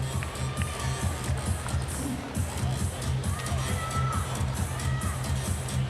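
Crowd noise filling Kudos Bank Arena at a women's regional competition, a steady broad murmur of many people with rustling and scattered movement, continuous and moderately loud throughout.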